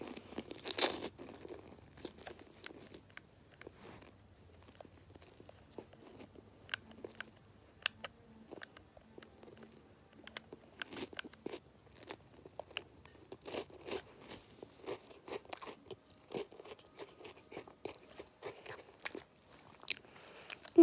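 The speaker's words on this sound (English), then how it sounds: "So if you hear some like crunching in the background, then yes, it's me." Someone eats something crunchy close to the mic, with sharp bites and chewing crunches scattered irregularly throughout, mixed with faint crinkling and light handling noises and no speech.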